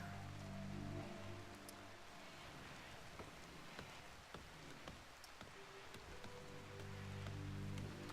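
Steady rain pours in a video game, a dense continuous hiss with scattered droplet ticks, moderately loud and unbroken, while low tonal background music hums beneath it and no one speaks.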